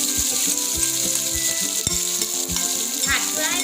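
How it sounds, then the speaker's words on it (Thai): Chili paste stir-fried in a little oil for canned fish chili dip, sizzling steadily in a pan with a continuous hiss, plus repeated scraping and tapping as it is stirred, close and fairly loud. "ผัดเพื่อให้ความหอมนะคะ"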